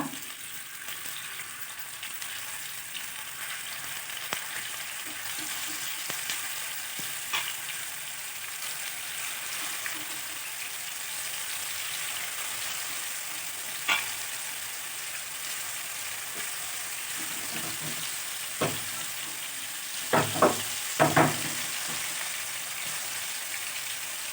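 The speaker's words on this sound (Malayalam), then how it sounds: "അതിലേക്ക് എണ്ണ ചൂടായി വരുമ്പം നെത്തോലി അതിലേക്ക് ഇട്ട് കൊടുക്കുക." Anchovies (netholi) fry in hot oil in a pan, a steady bright sizzle with scattered crackles and a few sharper pops and stirring clatters near the end, no talking.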